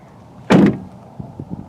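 The door of a 2022 Ford Bronco Raptor swings open and its side mirror smacks into it, one loud sharp knock followed by a few faint clicks and rattles.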